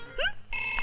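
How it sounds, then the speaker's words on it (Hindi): A short electronic ring with rising chirps, then a steady bright tone, like a phone ringing. "फोन।"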